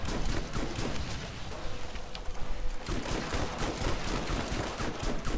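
Rapid, dense gunfire from Borderlands, loud sustained bursts of automatic shots with a brief lull partway before the firing resumes just as heavily.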